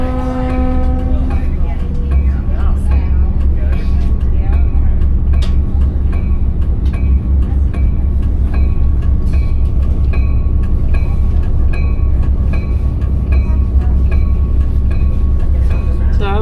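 R&N RDC 9164 railcar rolling into Penobscot station beside a quiet neighborhood, a loud steady rumble of wheels and engine with sustained horn-like tones early on and repeated clicks over the run; voices talk over it.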